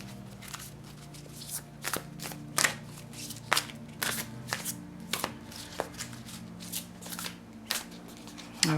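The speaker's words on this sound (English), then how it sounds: "All right, so shuffling these cards." Tarot cards are shuffled by hand in a steady series of crisp riffling bursts, each a short papery flutter, repeated close up.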